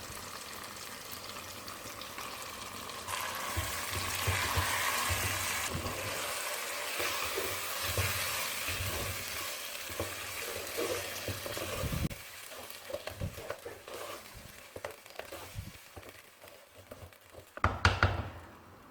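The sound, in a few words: sautéing mutton intestines with tomatoes in a pan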